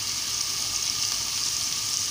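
Ginger garlic paste fries in a pan, giving a steady, even sizzle that holds close and constant throughout, with no voices.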